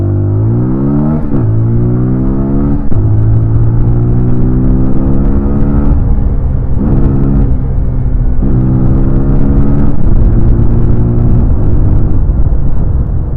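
A 2024 TVS RTR 200 motorcycle at full throttle, its loud engine rising in pitch through repeated revving climbs with brief drops between gear changes, close and continuous.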